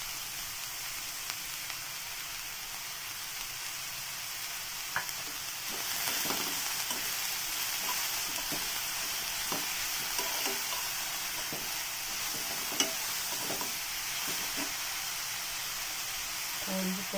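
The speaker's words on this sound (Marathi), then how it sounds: "मीडियम हीटवरतीच आपल्याला हे सॉटे करायचं." Mixed vegetables including carrot and boiled corn sautéing in a pan over medium heat for veg beetroot momo filling, a steady soft sizzle with occasional stirring clicks throughout.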